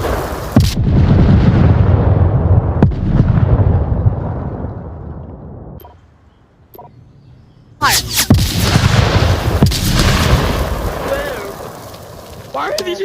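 Explosions and gunfire in the virtual reality shooter Onward VR: heavy rumbling blasts and sharp shots fill the air, fade into a near-silent lull, then burst back loud with more booms and cracks, with voices mixed in.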